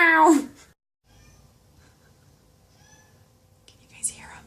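A hungry cat yowls for wet canned food, one loud meow up close at the start and another sharper cry near the end, with quiet rustling between.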